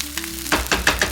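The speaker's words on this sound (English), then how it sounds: "Continue stir frying until the spinach wilts and everything is well combined." Spinach is stir-fried in a pan with tofu dish ingredients, a close sizzle broken by several quick scraping stir strokes in a rapid rhythm.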